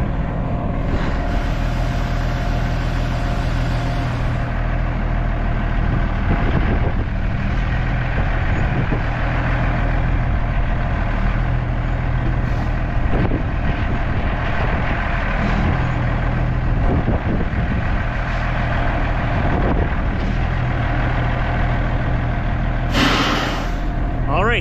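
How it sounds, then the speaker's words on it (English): A semi truck with its trailer brakes locked strains forward on ice and snow, a loud steady diesel engine drone running throughout with a brief hiss near the end, while someone talks over it. "I'm gonna spike the trailer brakes so that they're locked, and then I'm gonna try moving the truck forward"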